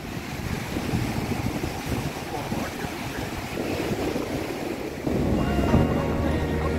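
Sea waves washing along a beach at Vizag, a steady broadband surf roar mixed with gusty wind buffeting the microphone, continuous throughout and swelling louder in the final couple of seconds.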